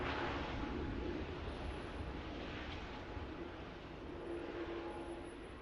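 A Qatar Airways airliner taxis at Manchester Airport, its engines giving a steady, distant roar and broadband rumble that fades slightly over several seconds, with no talk.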